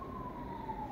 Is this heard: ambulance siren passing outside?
yes